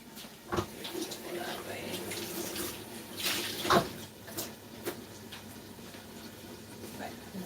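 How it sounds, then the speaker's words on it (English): Running water from a kitchen tap rinses out a cooking item, a steady wash of flow with a few louder splashes and clinks partway through, quiet in level. "so we're going to rinse this one out"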